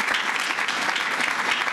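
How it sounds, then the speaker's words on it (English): A crowd claps for politicians being introduced at a seawall announcement on Staten Island, a brief, loud, dense burst of applause with no voices over it. "Let's give them a round of applause."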